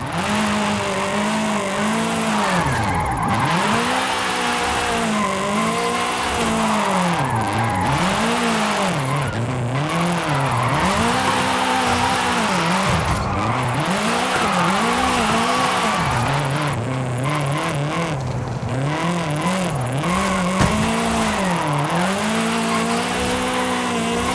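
Race car engine in the video game Forza Horizon 5, a loud continuous drone with rising and falling pitch sweeps as the car accelerates and brakes, with brief tyre squeal, steady throughout with no talk.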